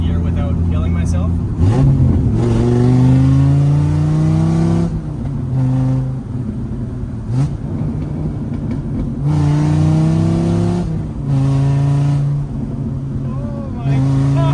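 A V10 Viper-swapped Mazda RX-7 at full throttle, its loud engine howling up through the gears in long rising sweeps. Short drops between pulls mark each shift, and a steady cabin drone runs underneath.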